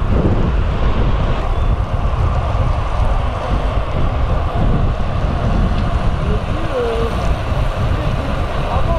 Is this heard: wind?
yes